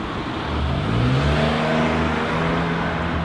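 A single car passes along a quiet Tokyo street, its steady engine whir and tire noise holding loud and close throughout the short stretch with no voices.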